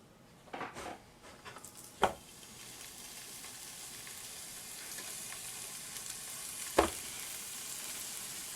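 Thick seasoned rib eye steaks sizzle steadily in a preheated skillet, a close, continuous hiss broken by two sharp metallic clinks.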